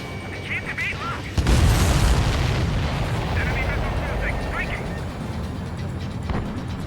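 Incoming missiles explode in Ace Combat 7 with a loud, rumbling boom that swells partway through and lingers as a dense roar, while radio voices chatter over it.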